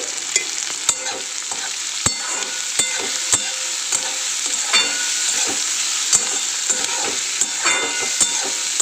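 Onions sizzle and fry in a pan with salt, a steady close hiss broken by frequent sharp clicks and scrapes of stirring, with no voices.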